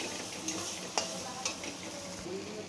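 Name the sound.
mixing fig mash with salt and turmeric in a pan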